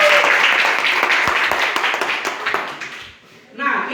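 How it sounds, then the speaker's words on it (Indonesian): A group of people clapping hands together in an indoor gathering, a dense burst of applause that fades out after a few seconds, with a voice speaking over it. "Ya, kita tepuk tangan."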